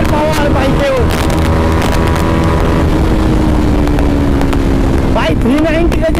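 A 390 motorcycle fitted with an aftermarket exhaust roars on a public road, with heavy wind rush and a couple of rising revs near the start and end.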